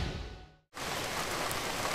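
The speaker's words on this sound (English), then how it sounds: "We'll hold out in this shrine until the rain clears." Rain sound effect in a voice drama: a steady rain hiss fades briefly to silence, then returns as a full, dense downpour that continues evenly.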